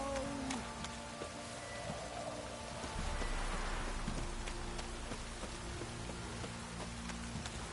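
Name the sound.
rain falling in a video game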